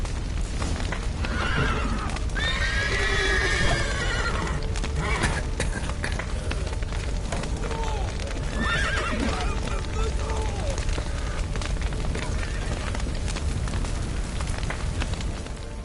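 A horse neighs and whinnies loudly amid a chaotic burning-village scene in The Witcher 3: Wild Hunt, with rumbling fire, crashing debris and shouting voices throughout, and further whinnies later on.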